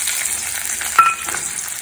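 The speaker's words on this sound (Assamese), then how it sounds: "এতিয়া দিছোঁ পিঁয়াজ" Onions dropped into hot oil in a home kitchen erupt in a loud, hissing sizzle halfway through, over a steady background of frying crackle; no one speaks.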